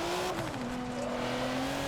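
Tires sliding on a car in Forza Motorsport 7, a sustained squealing tone that bends downward in pitch over engine drone, steady and fairly quiet throughout.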